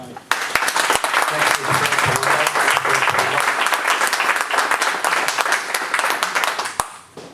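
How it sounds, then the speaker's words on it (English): An audience applauds at a township council meeting in Lower Saucon: loud, sustained clapping from many people that lasts several seconds and tapers at the end, with voices mixed in underneath. "so if you can just wait till the clap stopped"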